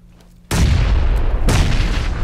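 Two grenade explosions in the battle royale game PUBG, each a sudden loud, deep boom with a long rumbling decay, the second following about a second after the first, with nothing else heard.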